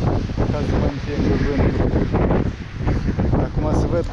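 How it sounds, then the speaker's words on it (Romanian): Strong wind and rain roar and buffet the microphone of a roller skater continuously, a heavy rushing blast with no voices. "Merg împotriva vântului și a ploii."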